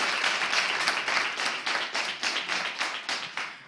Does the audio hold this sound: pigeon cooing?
no